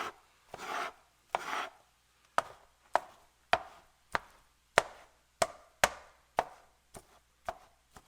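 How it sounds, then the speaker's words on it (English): A bench scraper chops through cooled cooked egg on a board, giving about a dozen crisp, close taps at a steady rhythm, with a couple of softer scraping strokes at the start. "Just going to cut it into a couple of pieces. Just using a bench scraper."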